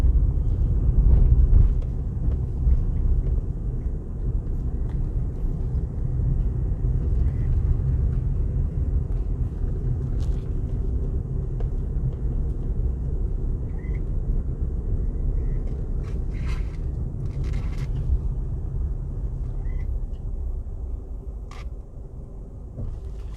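A car drives along a quiet, lonely road through the Slipe community in St. Elizabeth, Jamaica, giving a steady low engine and road rumble that holds throughout with no talking.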